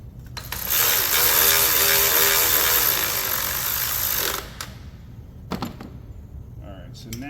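A 10 mm ratchet working on a nut in the engine bay of a 2004 Silverado with a 6.0 LS, a loud, fast continuous clicking run for several seconds, then a few scattered clanks and taps nearby.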